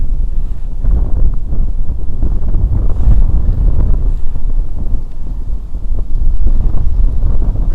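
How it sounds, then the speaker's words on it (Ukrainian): Strong winter wind buffeting the microphone on a frozen river oxbow during ice fishing, a constant low roar with rumbling gusts, loud and unbroken, no voices. "Такий сильний вітер"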